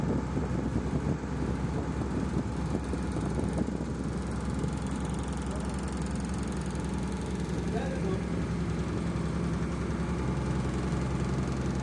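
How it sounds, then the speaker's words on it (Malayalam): A passenger ferry's engine runs in a steady, low drone during a boat trip from Parassinikadavu to Mattool, continuous throughout, with people talking over it. "ഇതാ ബോട്ട് എടുത്തു"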